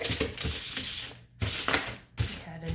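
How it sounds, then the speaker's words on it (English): Light hand sanding of a wooden fence, rough rasping back-and-forth strokes in three bursts separated by short pauses, close and fairly loud with no talk. "I'm just going to give it a light sanding just in case"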